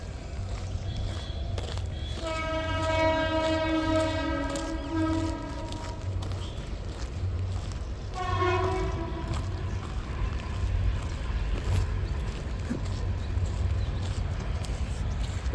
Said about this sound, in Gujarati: હા ટ્રેન આવી.